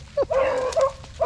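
Hunting dogs on a rabbit hunt giving short yips and whimpering barks, several quick high calls close by in a brief burst.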